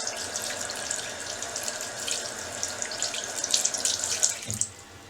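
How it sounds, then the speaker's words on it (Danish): Tap water runs steadily into a sink while soap is rinsed off hands, a close, continuous splashing that cuts off near the end. "Når du skal skylle sæben af, så husk at få det hele med."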